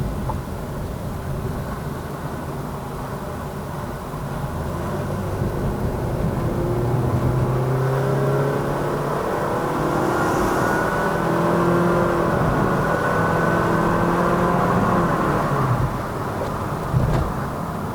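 Honda Shuttle 1.5L i-VTEC engine heard from inside the car on a road to Genting, a steady loud drone with revs rising and falling in gear-change-like sweeps.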